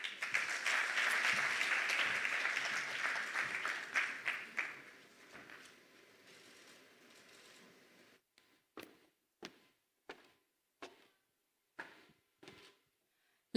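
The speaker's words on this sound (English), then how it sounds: "let us give a round of applause for the Vice President and Minister of Finance for his key address" Audience applause for the Vice President and Minister of Finance after his keynote address, a loud dense ovation for the first few seconds that fades into a thinning patter, ending in scattered isolated claps.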